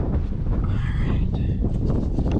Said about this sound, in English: It is really windy this morning